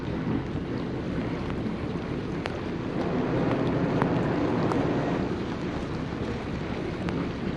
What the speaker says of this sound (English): Going with some heavy thruster action this morning.